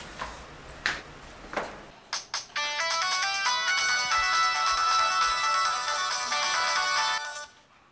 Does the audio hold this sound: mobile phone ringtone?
yes